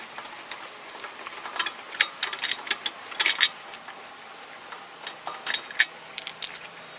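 A run of quick metallic ticks and ratcheting clicks in uneven bursts as bolts are worked loose on an Opel Corsa raised for a front brake job, close and fairly quiet with no talking.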